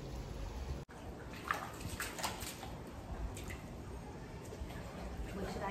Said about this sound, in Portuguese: agora eu vou botar a mangueira aqui pra completar essa água.